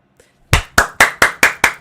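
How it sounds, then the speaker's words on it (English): Six loud, evenly spaced claps ring out close by in a steady rhythm, after a short quiet lead-in with a faint murmur. "Give me my fucking round of applause"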